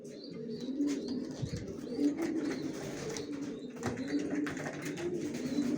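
Racer pigeons in a loft keep up a continuous layered cooing, many birds murmuring at once with scattered clicks and soft flutters, moderately close.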